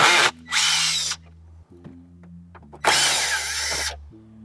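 A power driver with a 7 mm socket spins out car radio mounting screws during a Pioneer DMH-WT3800NEX stereo install, in two close, loud whirring bursts separated by a quieter pause, with no talking.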